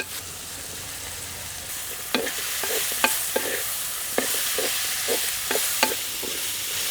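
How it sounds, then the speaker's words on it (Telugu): Ridge gourd peel and green chillies frying in a pan for chutney, a steady close sizzle broken by a regular series of spatula scrapes and taps against the pan. "బీరకాయ తొక్కు యాభై శాతం వేగిన తర్వాత పచ్చిమిరపాయలు కూడా వేసి వేయించుకుందాం"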